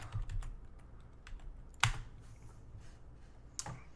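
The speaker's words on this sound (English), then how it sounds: "I'll go ahead and type jump" Quiet, close keystrokes on a computer keyboard, irregular taps spread across four seconds with two louder key strikes standing out over a low background hum.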